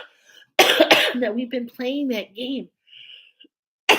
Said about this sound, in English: I hope this doesn't go into a coughing fit.